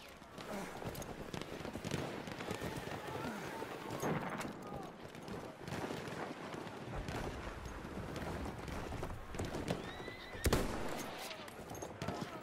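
Horse galloping hooves and whinnying in the Battlefield 1 war game, set against steady battlefield noise with scattered gunfire and a sharp burst near the end while players talk over it.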